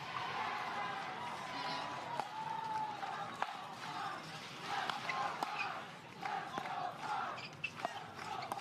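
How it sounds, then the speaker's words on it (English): Crowd noise from spectators at a professional pickleball match on championship court, a steady, moderately loud murmur and cheering with scattered claps and sharp paddle pops throughout. "You might hear the crowd trying to energize the New Jersey Fives on championship court"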